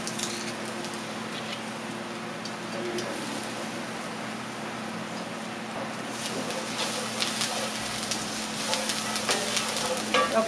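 Zucchini and garlic cloves fry in a pan, a steady soft sizzle with occasional stirring that grows slightly busier toward the end.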